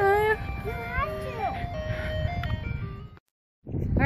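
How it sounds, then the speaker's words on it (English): An ice cream truck plays its tinkling electronic jingle close by, looping melodic notes over traffic rumble while children and adults talk, before a brief silence and noise return. "then we had a visit from the ice cream truck"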